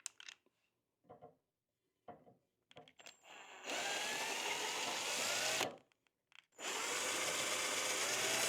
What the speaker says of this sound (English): And then you just drill through.